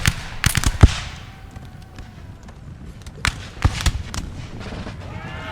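Musket fire in the strategy game Napoleon Total War, in an Ottoman campaign battle against charging grenadiers. Scattered sharp cracking shots pop singly and in small clusters over a low battlefield rumble, some near and loud, others fainter.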